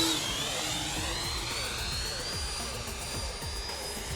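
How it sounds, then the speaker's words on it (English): Freewing J-10 Vigorous Dragon 90mm electric ducted-fan RC jet flying overhead, a steady, loud turbine-like whine and rushing roar throughout, with a faint shifting pitch as it passes. "I don't wanna crash this jet, but I think this is making it fly the way it's supposed to be flown, as a fighter jet should."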